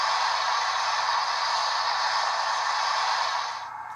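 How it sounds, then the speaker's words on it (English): A DCC sound decoder in a Bachmann USRA Light Pacific 4-6-2 model steam locomotive plays a continuous broad hiss of steam release, steady and fairly close, dropping off abruptly near the end. "You got steam release on F4."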